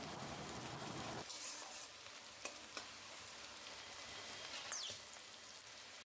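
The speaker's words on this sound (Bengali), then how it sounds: "এই পেঁয়াজ রসুন লঙ্কাগুলো ভালো করে ভেজে নেব" Onions, garlic and dried chillies fry in a pan with a steady, dense sizzle, broken by a few sharp crackles and the stir of a spatula, all without voices.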